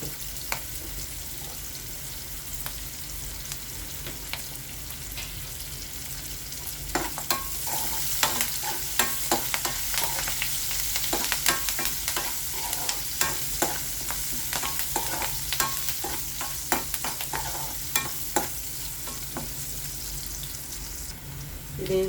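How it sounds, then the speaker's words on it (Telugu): Onions, green chillies and curry leaves sizzle and fry steadily in a pan as a tempering, with repeated scraping and stirring clicks through the middle; no one speaks. "తాలింపు వేగింది కదా ఉల్లిపాయలు బ్రౌన్ కలర్ వచ్చినాయి"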